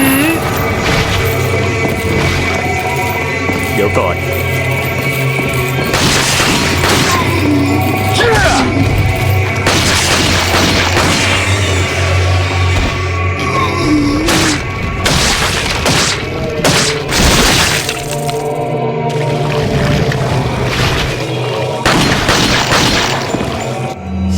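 Dense gunfire and booming explosions in Resident Evil 4 HD Project, loud and continuous with repeated sharp bursts and crashes over a steady background hum, with voices talking at times.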